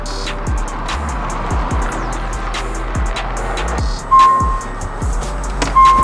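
A Tesla Roadster electric sports car sets off on a drive, giving a steady close rumble of road and cabin noise with regular soft thumps and clicks, plus two short tonal beeps near the end; no one speaks.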